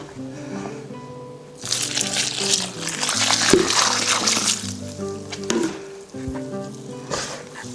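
Wet ProMix potting soil is stirred and squished by hand in a container, giving bursts of moist churning and rustling over a steady low background hum, with quieter pauses between the mixing strokes.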